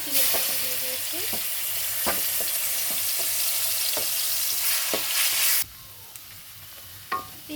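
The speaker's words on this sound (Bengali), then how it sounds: "পেঁয়াজটা আমি হালকা ব্রাউন কালার করে ভেজে নেব।" Onions frying in regular oil in a wok with sesame leaves, a loud dense sizzle under rhythmic spatula scrapes and taps that suddenly drops to quiet near the end, leaving a few isolated clinks, with no speech.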